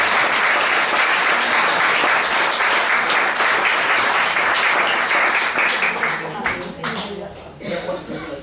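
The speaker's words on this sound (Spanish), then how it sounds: "Pues aplaudime, que a mí no me aplaudís." Loud, sustained audience applause at a tribute interview fills the room for about six seconds, then thins into scattered claps as it fades.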